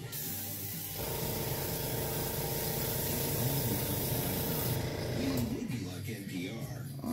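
An airbrush sprays paint over rivets in a steady, close hiss lasting several seconds before cutting off, followed by a voice speaking briefly.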